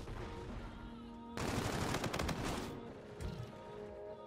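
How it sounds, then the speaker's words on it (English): Laser weapons in Call of Duty: Infinite Warfare let off a loud burst of rapid automatic fire lasting over a second, then a few scattered shots under game noise. "We're shooting lasers."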